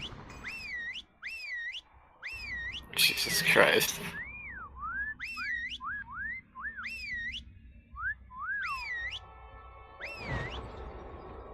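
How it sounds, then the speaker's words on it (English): A person whistles a repeated rising-and-falling tune in short phrases over game sounds during a World of Warcraft raid, with someone briefly speaking and a couple of loud bursts in between. "Stop whistling."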